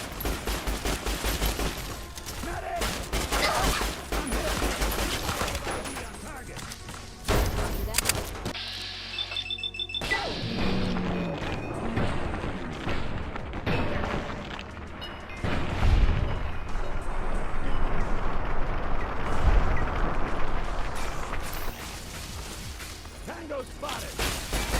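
Gunfire in the tactical shooter Rainbow Six Vegas, sustained automatic bursts and scattered single shots crackling throughout, with occasional impacts and clipped voices shouting over the firefight.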